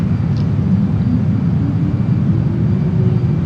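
A JAS-39 Gripen jet engine on afterburner in Microsoft Flight Simulator: a loud, steady, low droning roar with a broad hiss above it, unbroken from start to finish and with no voices.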